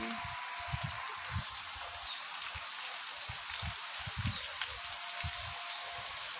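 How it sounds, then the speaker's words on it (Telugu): Heavy rain pours steadily in a dense, loud, continuous hiss, with faint low thumps and knocks scattered underneath. "ఫుల్ వర్షం పడుతుంది"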